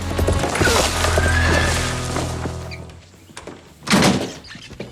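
A racehorse at an equestrian race neighs loudly and close, with hooves clopping under it, then a second sharp whinny bursts out near the end.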